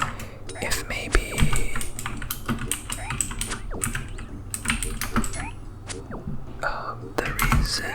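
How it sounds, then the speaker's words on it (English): Rapid, irregular keyboard typing clatters close up for the whole stretch while playing Old School RuneScape, mixed with soft whispered speech and quiet game sounds underneath. "Oops, I was typing in the Runescape chat."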